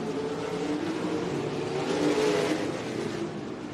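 Sprint car engines roar on the dirt oval at El Paso County Raceway during an ASCS Northern Outlaws main event. The drone is loud and continuous, swelling briefly mid-way, with no voices.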